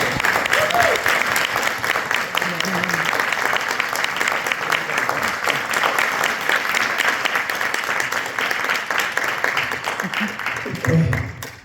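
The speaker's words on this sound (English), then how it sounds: "I would really love to give him a round of applause for all of the work he put into this" An audience at a school basketball team dedication claps in steady, dense applause for over ten seconds, fairly loud and close, with a brief voice near the end.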